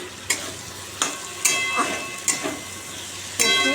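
Cumin powder, salt, turmeric and tomato frying in a pan, with a steady sizzle and a handful of sharp scraping stirs of the spoon against the pan at irregular intervals, close and clear.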